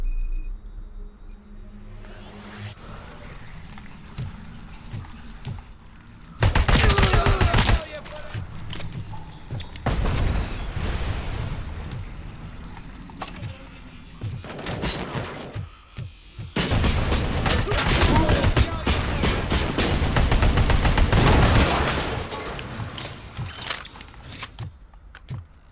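Loud OCP turret gunfire in Robocop: Rogue City, several sustained bursts of rapid fire with pauses between them, firing near and harsh over a steady background of game ambience.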